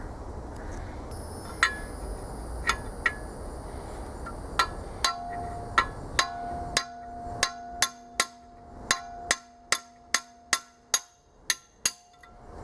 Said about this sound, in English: This is just a bolt and a hammer